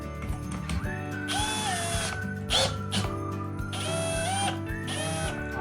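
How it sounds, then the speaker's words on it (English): A cordless drill fitted with a 1 mm bit, mounted at the top of a jig, whines at high speed in repeated bursts with ratcheting mechanical clicks over a continuous motor hum. "I am using a cordless drill for here."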